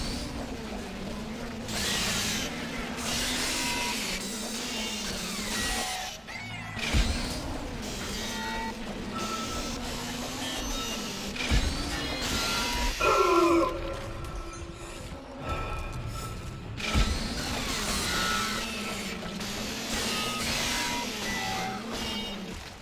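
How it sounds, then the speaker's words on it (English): Ambient interior of a moving elevator in the video game Dead Space: a steady low mechanical hum and rattling machinery drone lasting over twenty seconds, with occasional clanks and a brief tonal beep partway through. "Maybe it's a peaceful elevator ride"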